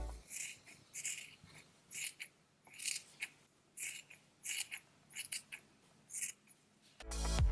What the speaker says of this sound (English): and then trim off the ends.